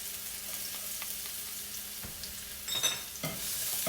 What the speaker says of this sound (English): Right now I already add oils and heat the pan to hot. So we're gonna add the shallot,